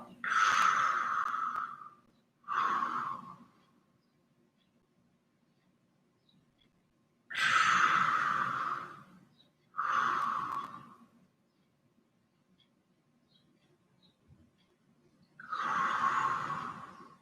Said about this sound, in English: This lower abdominal breathing is ideal throughout the day